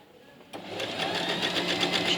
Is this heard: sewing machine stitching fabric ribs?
yes